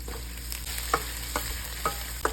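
Shrimp being sautéed with ginger in a pot, a steady low sizzle punctuated by four or five sharp spoon clinks and scrapes against the metal as the mixture is stirred, close and with no voices.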